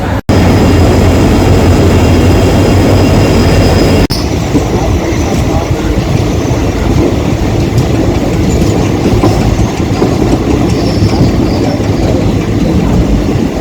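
The Chennai Central–Chhatrapati Shivaji Maharaj Terminus superfast express rolls through Pune Junction, a loud, close, continuous rumble with rhythmic wheel clatter and a brief high squeal at the start.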